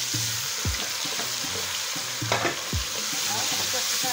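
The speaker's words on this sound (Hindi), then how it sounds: "अपना कीमा हम इसको ऐड कर देंगे" Minced meat keema fries with golden brown onions in a hot pan, giving a steady, close sizzle broken by a few sharp stirring scrapes, with no talking.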